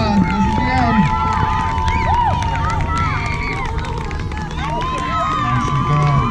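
Crowd at a youth track meet cheering on runners finishing a 4x400 relay: a steady wash of babble, shouts and whistles-like yells, with scattered claps and voices calling out nearby.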